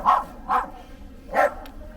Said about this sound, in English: That's a badass dog right